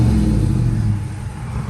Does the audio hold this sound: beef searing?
no